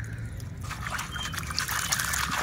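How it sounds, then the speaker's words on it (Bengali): Sand being rinsed in water to clean it before rooting plant cuttings, a steady close trickling and sloshing of liquid with soft gritty churning, continuous with no voices. "এই বালিটি প্রথমে ধুয়ে নেবেন খুব সুন্দরভাবে"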